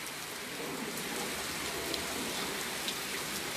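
Rain falls steadily on a stormy day, a constant soft hiss of drops on surfaces with a few faint louder drips, fairly quiet and uninterrupted by voices.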